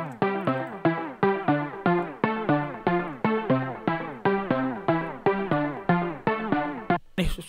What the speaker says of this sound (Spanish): Es un sintetizador, obviamente.